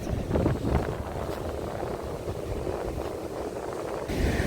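Steady wind at the Black Sea coast in Chornomorsk, Odesa region, buffeting the microphone with a constant low roar and rumble, gusting slightly louder at the start and end.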